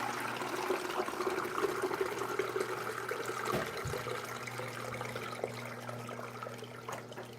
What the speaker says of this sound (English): So all we have to do here is pour it out here.